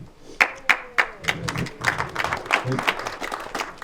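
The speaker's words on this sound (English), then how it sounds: "Just hold your applause if you'd like to the end" At a town meeting after election results, a small audience breaks into applause, sharp separate claps at first that quickly thicken into a scattered patter, with voices talking underneath.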